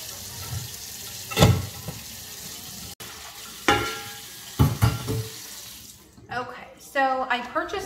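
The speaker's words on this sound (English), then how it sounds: "I am washing it again just to make sure that there's nothing else left on it. Again, just using soap and my sponge." A HexClad pan is scrubbed with soap and a sponge under a running kitchen tap, with close splashing and bursts of scrubbing, and a voice speaks near the end.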